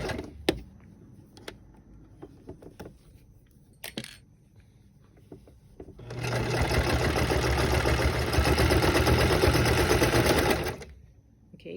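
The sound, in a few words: sewing machine stitching stretch velvet mask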